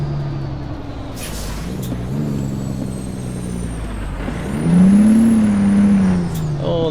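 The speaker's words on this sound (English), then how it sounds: "Missed a gear there" A truck in American Truck Simulator misses a gear: the engine note falls away and wavers, then revs up loud and high before settling, with brief air hisses scattered through.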